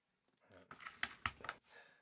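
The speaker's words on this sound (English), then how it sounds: "I'm going to quickly switch over to the Windows keycaps" Plastic keycaps being pulled and clicked onto a NuPhy Halo 65 wireless mechanical keyboard, giving a quick burst of close, sharp clicks and rattles over about a second, with faint handling noise around them.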